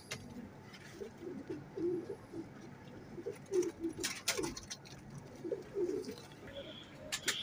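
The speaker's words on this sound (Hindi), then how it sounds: "ये मियाँ साहब वाले कबूतर हैं दोस्तों" Teddy pigeons cooing, soft repeated low coos in short bursts, close but quiet, with a few faint clicks and rustles.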